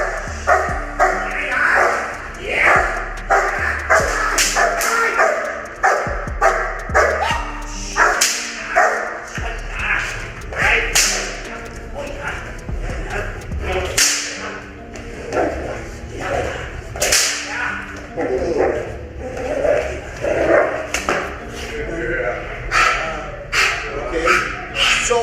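A female dog of a working breed barks repeatedly and sharply, loud and close, the barks coming in rapid bursts across the whole stretch.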